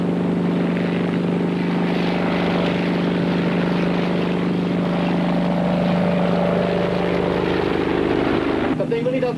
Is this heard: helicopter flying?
yes